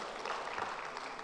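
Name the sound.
audience applause for speakers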